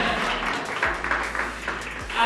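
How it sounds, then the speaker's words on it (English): Applause from an audience at an award event, a continuous wash of clapping at moderate level that swells again at the very end, with some voices blending underneath. "can you give me a round of applause?"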